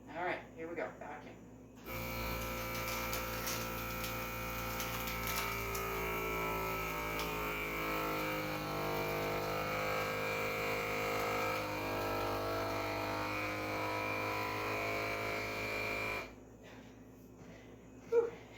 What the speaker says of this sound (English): I'm going to hit vacuum and it'll vacuum and seal at the same time.